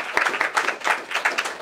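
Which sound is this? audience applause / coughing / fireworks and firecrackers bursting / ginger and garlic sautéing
audience applause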